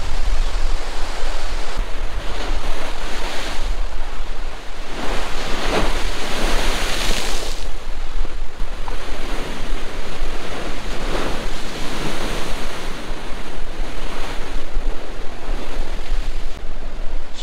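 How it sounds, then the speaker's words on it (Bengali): Sea waves surge onto an island shore, a loud steady wash of surf with repeated swells rolling in and receding, close by, with wind mixed in and no talking. "এত পরিমাণ ঢেউ, প্রচুর পরিমাণ ঢেউ হচ্ছে এখন। আর ঢেউয়ের জল চলে আসছে এত দূর পর্যন্ত।"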